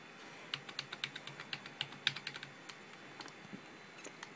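Repeated presses on a computer keyboard attached to an ASUS A8N-SLI Deluxe motherboard PC setup screen, a quick run of sharp, fairly close clicks that slows into sparser taps, with no talking.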